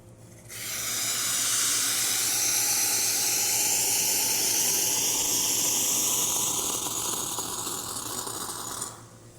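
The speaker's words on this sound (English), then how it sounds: "And let's test the hot water." A serviced Vertrano 2b Evo espresso machine dispenses hot water in a continuous close hiss and gush lasting about nine seconds, its pitch slowly rising as it runs, then stops.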